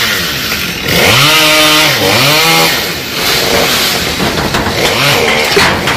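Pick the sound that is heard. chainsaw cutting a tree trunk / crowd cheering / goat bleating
chainsaw cutting a tree trunk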